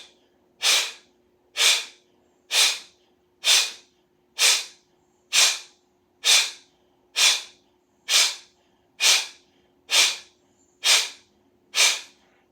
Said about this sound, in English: Kapalabhati pranayama. Hands on the ends of the knees. As you exhale, you're pulling in the belly, forcing air out.